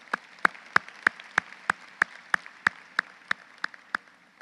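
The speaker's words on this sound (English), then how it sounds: "Let's give them an applause." Sharp, evenly spaced claps, about three per second, ring out close and loud over a faint wash of crowd noise at a high school graduation ceremony for academy seniors.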